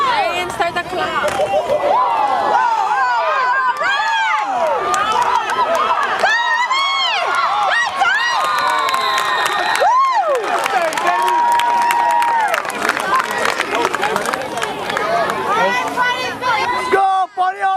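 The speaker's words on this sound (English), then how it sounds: "And start the clap." A crowd at a baseball game between the Volcanoes and the Paniolos claps and cheers steadily, a dense wash of hands and whoops with voices and music-like tones running over it throughout.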